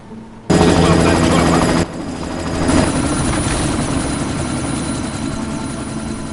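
Helicopter in the video game Deus Ex: Mankind Divided, a loud, close rotor roar that bursts in abruptly with rapid chopping pulses, then settles into a steadier engine drone mixed with game effects.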